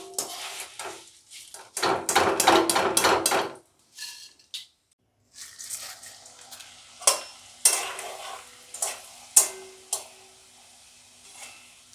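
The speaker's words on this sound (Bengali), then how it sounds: "এরকম সাদা ধবধবে হয়ে ফুলে উঠবে, খুব তাড়াতাড়ি ভাজা হয়ে যায়" Flattened rice (chire) frying in hot oil, loud bursts of crackling sizzle with spoon scraping against the pan, coming in several short batches separated by pauses, near and without talk.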